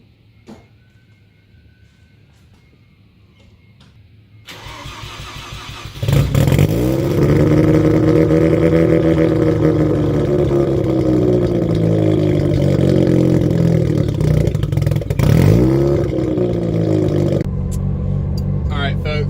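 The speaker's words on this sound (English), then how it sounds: "I'm going to go ahead and crank it up, and you can hear that rattle can exhaust" A Mazda RX-7 engine cranks up and settles into a loud, rumbling idle with rattly exhaust, revving briefly in swells before easing back.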